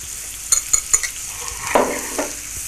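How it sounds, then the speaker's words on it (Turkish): Butter and flour are toasted into a roux for red lentil soup. Several quick spatula scrapes tick against the pan over a soft, steady sizzle, close and distinct with no talking. "mercimek pişerken ben hemen meyanemi yapacağım. Tereyağı, un,"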